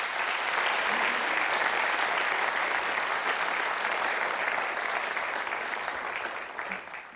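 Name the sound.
applause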